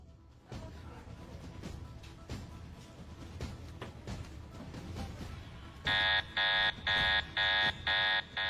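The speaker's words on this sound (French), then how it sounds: "comme l'alarme s'est déclenchée" A loud electronic alarm sounds in repeated pulsing bursts after several seconds of clattering background noise.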